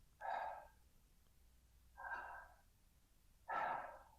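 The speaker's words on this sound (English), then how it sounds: "and then exhale" Three slow, breathy exhales come in steady succession about every one and a half seconds, soft and close in a quiet room.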